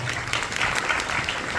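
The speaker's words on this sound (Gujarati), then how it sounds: "રાકેશભાઈને તાળીઓથી વધાવો" Audience clapping welcomes an arriving guest at a Guru Purnima satsang in Dakor, a brief dense burst of applause from a gathered crowd, fairly close and continuous.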